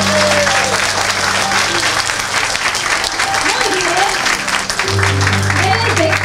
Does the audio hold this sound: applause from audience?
yes